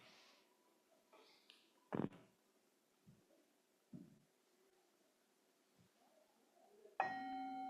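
A meditation bell is struck once in a quiet room at a sangha sitting, its ringing tone holding to the end after soft, scattered knocks and thumps.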